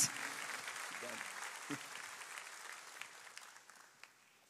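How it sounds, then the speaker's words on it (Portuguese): A church congregation welcomes a special guest pastor with a round of applause that starts full and gradually thins and fades, with a few scattered claps and brief voices mixed in. "Queria que a igreja recebesse com uma salva de palmas nosso convidado especial"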